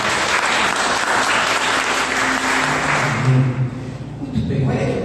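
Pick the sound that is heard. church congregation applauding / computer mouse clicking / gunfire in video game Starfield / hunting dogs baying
church congregation applauding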